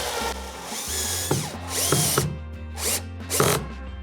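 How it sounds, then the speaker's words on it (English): A power drill on a low setting whirs in several short bursts with pauses, close and loud, its pitch rising and falling as it tightens fasteners mounting an anchor on a Hobie 2020 Outback kayak. "I'm gonna go ahead and tighten the fasteners."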